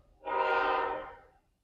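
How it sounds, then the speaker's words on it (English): Train horn sounds from a train going through nearby, one sustained blast that rises quickly, holds for about a second and fades away, fairly loud and heard alone. "We got a train behind us. It's going through."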